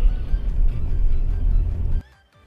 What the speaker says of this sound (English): I'm gonna drive around again real quick